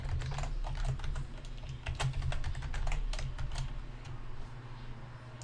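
Someone types a password on a computer keyboard, a close, quick run of key clicks over a low steady hum of room or machine noise, with no speech.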